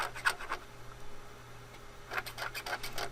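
Close scratchy strokes of a pencil or marker rubbing on paper, in two short bursts separated by a quieter pause over faint hum.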